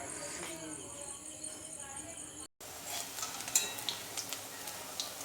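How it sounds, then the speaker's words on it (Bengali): Red lentil fritters (masoor dal bora) fry in hot oil with a soft continuous sizzle, broken by a brief cut and followed by light clinks of a utensil against the pan. "তো এই বড়া দিয়ে দিলাম। আর বড়াটা ভাজা চলছে।"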